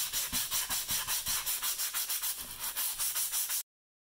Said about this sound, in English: I decided to give it a light sand just to see what I was working with